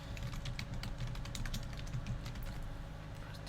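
Steady, dense clatter of fingers typing on a computer keyboard, close and moderately loud, continuous for the whole stretch with rapid overlapping keystrokes and no voices.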